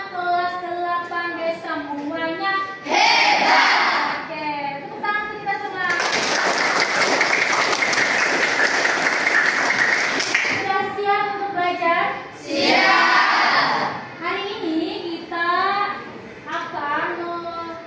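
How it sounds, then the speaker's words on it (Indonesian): A class of grade 8 students applauds together in a classroom, a dense burst of clapping lasting several seconds between stretches of speech from the teacher and children. "tepuk tangan untuk kita semua"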